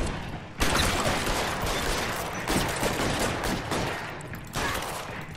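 Sustained bursts of gunfire in L.A. Noire's first-person shooting mode, a dense, loud fusillade of rapid shots with brief pauses between volleys.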